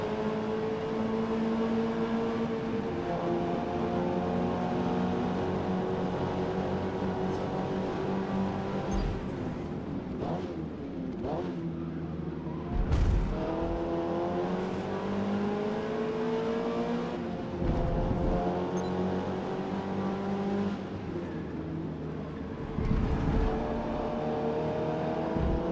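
Mazda Miata spec race cars in Forza Motorsport rev and shift repeatedly, engine notes climbing and dropping with several upshifts and overlapping cars nearby, loud and continuous with no talk.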